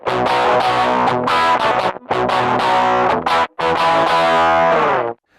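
Electric guitar through a Boss GT-1 on a 60s fuzz setting with a sharp, boosted tone, chasing a classic song's sound: loud, heavily distorted chords strummed in bursts with brief gaps, close and alone without talking.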